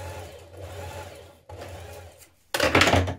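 A sewing machine understitches a seam a few millimetres from the stitching line on a ruffle dress, running in short steady bursts with brief pauses, then a louder, faster stretch at the end.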